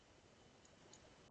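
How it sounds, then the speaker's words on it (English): A phone alert notification chimes once as a short, fairly loud electronic tone, cut off at the very end after near silence. "And I just got an alert on my phone."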